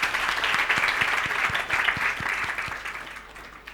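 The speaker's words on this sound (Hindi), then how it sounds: "हाँ, तालियां।" A small group claps together at close range, the steady, rhythmic hand claps running for a few seconds with little else around them.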